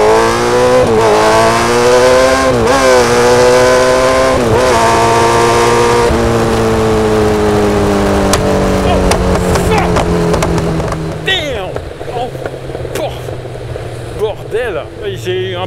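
A Kawasaki Z900 motorcycle engine accelerates hard through repeated rising revs and gear changes, loud and close, then fades to a rougher idle with crackling while a voice speaks.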